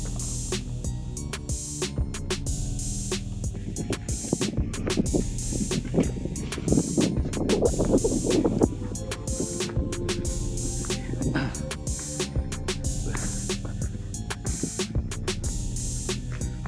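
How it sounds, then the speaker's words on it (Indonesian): Steady strong wind buffets the microphone on a climb up Mount Sumbing, a continuous broadband roar with gusting swells throughout, loud and close, with no voices standing out. "Anginnya kencang juga Pak ya?"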